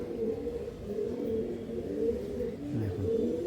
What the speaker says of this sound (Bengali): দুটোই পিওর মালবাহী পায়রা আছে।